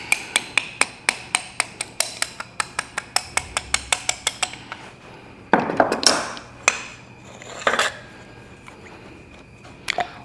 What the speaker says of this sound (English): And a hammer, and you can just tap them out.